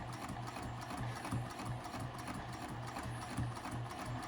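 A sewing machine stitches a wristlet clutch with attached double pockets, running steadily and close for the whole stretch in a fast, even mechanical whir with a rhythmic pulse and no talking.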